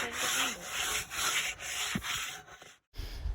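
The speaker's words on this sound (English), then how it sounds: "I'm still sanding that one over there" Steady abrasive rasping of sandpaper rubbing across wood, continuous strokes close by, with a brief pause near the end before sanding resumes.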